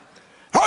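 A voice imitates a dog's bark with one loud, gruff woof at the end, following a quiet pause.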